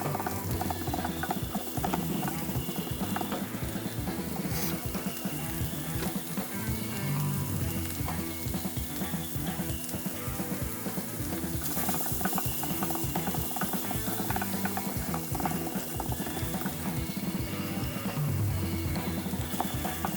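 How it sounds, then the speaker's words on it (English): Chorizo frying and crisping in a pan makes a dense, continuous sizzle with crackling and spitting, loud and close, and keeps going steadily with no talking. "we're going to put some of the chorizo in now, and we're going to crisp that up a little bit, let that fry up"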